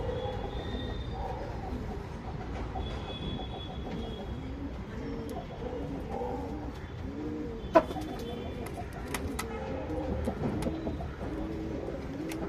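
Pigeons coo steadily in a loft of old-lineage birds kept for sale, soft overlapping calls continuing throughout against a constant low background hum, with one brief sharp click midway.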